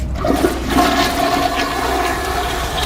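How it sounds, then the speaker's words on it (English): A mall restroom toilet flushes with a rushing, gurgling swirl of water that runs steadily throughout, heard alone without talk. "I heard a toilet flush"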